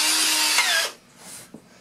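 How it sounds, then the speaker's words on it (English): A power drill bores through birch wood, a loud high whirring buzz that holds steady before cutting off abruptly, followed by a quieter brief whir and a small clunk. "I'm drilling through the birch so the screws don't split the wood"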